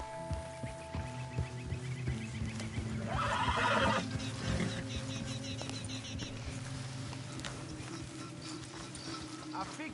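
Horses whinnying and snorting in Red Dead Redemption 2, with hoof clip-clops and tack rustling close by, set against a steady low ambient hum and faint outdoor background.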